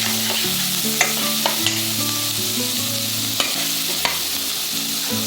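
Chopped garlic and green chili sizzle and crackle steadily in a hot pan, with occasional stirring clicks and a soft melodic background throughout.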